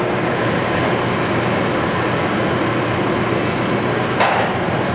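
A Kingston HD 26x120 metal lathe runs steadily at 105 RPM, giving a continuous, even mechanical rumble and hum at close range with no talking.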